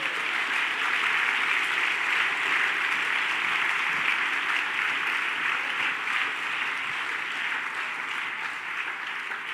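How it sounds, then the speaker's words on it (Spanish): A church congregation applauds steadily for nearly ten seconds, a dense, even roar of many hands clapping together with no pauses and little talk. "Aplauso al Señor."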